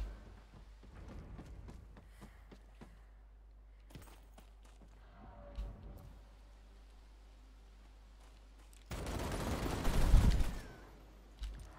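Gunfire in Vampire: The Masquerade Bloodhunt, a loud dense burst of shots near the end after scattered quieter clicks and impacts.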